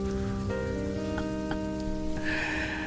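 Steady rain falls as a sound effect for a driving-in-the-rain segment, a dense continuous patter with a sustained tonal drone running beneath it and brighter hiss swelling near the end, with no voices.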